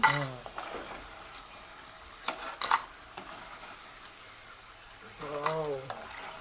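Roasted Coorg-style banana chips clink and rattle onto a plate in short bursts, with cutlery and dish clatter near and fairly quiet, while people talk in between.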